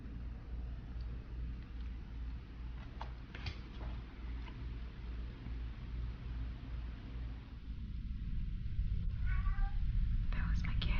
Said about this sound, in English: I don't know if you guys heard her meow right now.